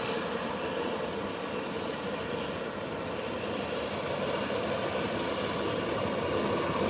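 A Southwest Airlines jet taxis in to its parking stand under a marshal's guidance, its engines a steady, loud broadband roar and whine that holds even throughout.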